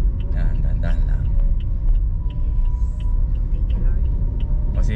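A car rolls slowly forward as a learner driver gradually lifts the clutch, giving a steady low rumble of engine and road noise. Several clicks and faint voices sit over it.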